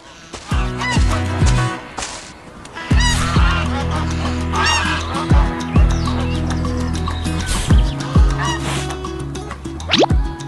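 Cartoon geese honk again and again over bouncy animated farm music, with sharp repeated calls standing out loudly above the tune near a wooden house in a green forest.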